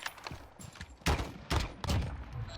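Gunfire in the Warzone shooter, a few sharp shots spaced about half a second apart, moderately loud over a faint background hiss, with no talking.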